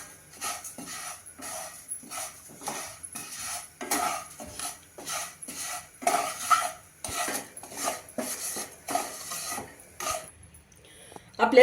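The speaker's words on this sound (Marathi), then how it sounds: "शेवया घालूया आणि थोड्याशा गोल्डन कलरवरती भाजून घेऊया" Vermicelli being roasted golden in a pan, with a rhythmic series of spoon strokes scraping and clinking against the metal, repeated steadily and fairly close.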